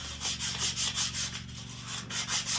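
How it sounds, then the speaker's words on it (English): Close, rhythmic back-and-forth scrubbing of sandpaper on the metal wheel shaft of a Troy-Bilt 645A tiller before fitting an oil seal, about a dozen quick strokes over a low background hum. "Sand it up a little bit."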